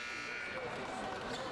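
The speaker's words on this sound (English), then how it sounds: "and that's the buzzer." A basketball end-of-quarter buzzer sounds throughout a junior varsity game in a gym. It is a steady, loud electronic tone with crowd noise and commentary over it.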